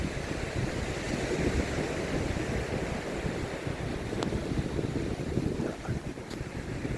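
Steady, loud wind gusts across a beach, rough and continuous throughout, with faint surf-like wash underneath and no voices.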